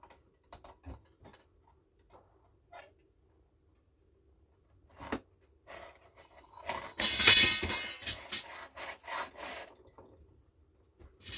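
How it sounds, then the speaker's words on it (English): Hand saw cutting wood on a miter block for a scratch-built tri-axle trailer with fifth wheel, starting with scattered light scrapes and taps, then a louder rasping burst of strokes near the middle, close and without talk. "So I have to cut this on my miter block."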